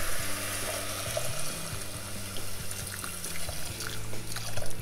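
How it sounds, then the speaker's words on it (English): Water poured over vegetables in a cooking pot for clam chowder, a steady close watery rush with a low hum underneath, continuous for several seconds with no talking. "Cover this with water."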